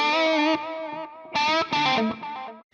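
Distorted electric guitar played through a Mooer SD30i portable practice amp with its tape delay effect, a few sustained chords and notes with repeating echoes trailing off between phrases.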